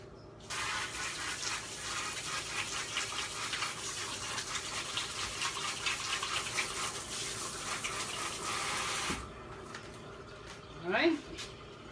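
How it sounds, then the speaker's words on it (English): Tap water runs steadily for several seconds in a home kitchen while hands are washed under the stream, a broad continuous splash that cuts off abruptly, followed by a brief voice near the end. "just washing my hands"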